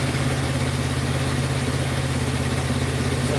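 A scooter engine idles steadily while warming up, a constant close, loud, even low rumble with no change in pace throughout.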